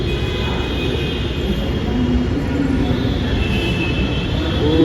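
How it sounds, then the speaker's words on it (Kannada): A metro train arrives at a station platform with a loud, continuous rumble and hiss from its wheels and cars, close by and steady throughout. "ಫೈನಲಿ ಮೆಟ್ರೋ ಬಂತು ಗಾಯ್ಸ್."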